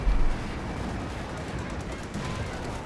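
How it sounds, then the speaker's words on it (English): A .50 cal machine gun fires in a Company of Heroes 2 match as a steady, dense, rattling roar of automatic fire. It comes with a louder burst at the start, and game battle noise fills the background. "Skeletron and his tanks, his infantry, and of course the 5th cal. Just ripping apart here Spaget Man's anti-tank gun crews."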